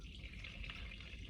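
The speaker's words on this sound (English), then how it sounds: "Now we're gonna pour it into our coffee maker, fill it up to the top." Water pours steadily into a Black + Decker coffee maker reservoir, a soft, continuous splash and trickle heard briefly and quietly with no talking.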